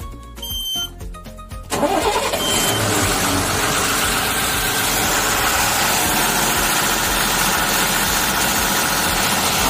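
An Ashok Leyland BS4 pickup with an EDC light fault and an engine that will not rev past 1700 RPM cranks briefly, then catches and settles into a loud, steady idle that runs to the end.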